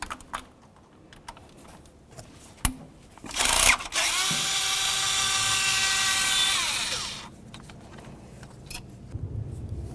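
A power tool whirs steadily for about three seconds while removing ignition coil mounting bolts on the valve cover of a 2007-2017 Ford Expedition, with brief clicks and clatter before and after the run.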